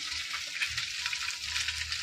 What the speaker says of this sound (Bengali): ঠিক আছে, আমার মাছ ভাজা হচ্ছে